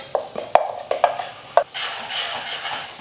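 Masala paste stirred and sautéed in oil in a pan over low flame, several sharp metal scrapes and taps of a spoon against the pan followed by a steady soft sizzle, close and fairly loud with no talking.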